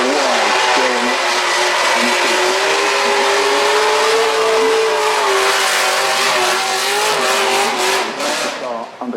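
A Mazda race car climbs the Goodwood Festival of Speed hill climb, its engine wailing at high revs and rising and falling with gear changes, heard close and loud throughout under a commentator's talk.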